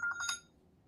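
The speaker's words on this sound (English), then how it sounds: "That was my phone." A mobile phone alarm chimes in a short burst of three or four bright electronic tones, fairly quiet, then cuts off into near silence.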